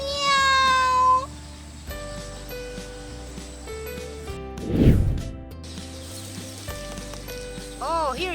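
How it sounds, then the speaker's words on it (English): A cat meows in a quiet domestic setting, a couple of clear meows near the start and another short meow near the end, with background music throughout. "what sound does a cat produce? Meow."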